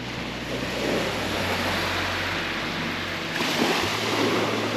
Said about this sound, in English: There's a few waves out in the middle